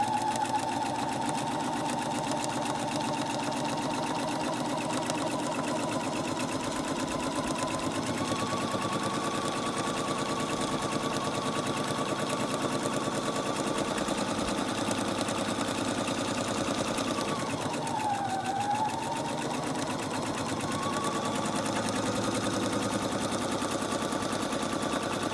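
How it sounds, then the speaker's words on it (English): Sewing machine stitching two pieces of fabric for a Japanese bento bag, running as one steady, unbroken mechanical hum with a dense stitching buzz for about 25 seconds, close and fairly loud with no talking. "we're just going to stitch"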